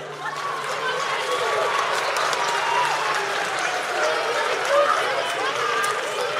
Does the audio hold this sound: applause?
yes